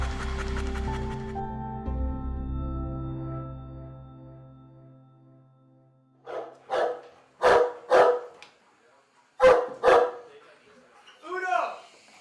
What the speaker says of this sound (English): this is my dog, Dasty.